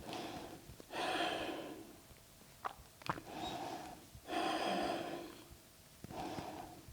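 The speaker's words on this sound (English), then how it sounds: "Taking deep breaths here." Slow, deep breaths during a chest-opening yoga practice, with long airy inhales and exhales close to the mic, a few short sharp sniffs between them, and no talking.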